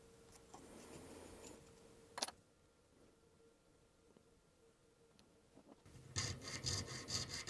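A file rasps across the string slots of a guitar nut, faint strokes at first, then a single sharp scrape, a quiet pause, and louder, rapid back-and-forth filing near the end.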